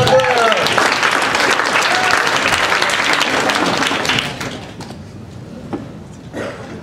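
Loud comedy-club audience applause for stand-up comedian Ammon Brown at Carolines, with dense clapping and cheering that fades after about four seconds into scattered claps and quieter room noise.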